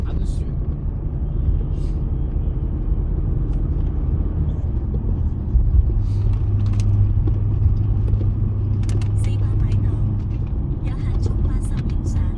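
Cars and traffic rumbling steadily past on a road, a continuous near drone with occasional louder passes, while people talk over it.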